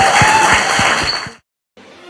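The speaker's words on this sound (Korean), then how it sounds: "박수 부탁드립니다." A studio audience applauds in a dense burst of clapping for about a second and a half, then it cuts off abruptly, and after a short gap a fainter stretch of crowd noise follows.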